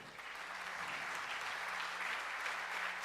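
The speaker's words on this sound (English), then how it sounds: "Can we have a round of applause," Audience at a national veterinary symposium on the role of canines in One Health applauds steadily, a dense, even wash of clapping holding at moderate level throughout with no voices standing out.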